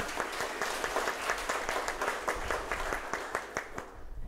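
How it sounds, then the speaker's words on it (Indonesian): Sustained applause from a graduation audience at Universitas Nahdlatul Ulama Purwokerto, many hands clapping steadily and fairly close for several seconds before thinning slightly at the end, with no talk over it. "Mohon tepuk tangan sekali lagi."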